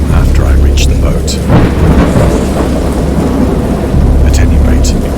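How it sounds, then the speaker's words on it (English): A thunderstorm at sea in the game Dagon roars with loud, constant rain and deep rolling thunder, the heavy rumble swelling and easing over a wash of downpour. "I have indistinct recollections of a great storm sometime after I reached the boat."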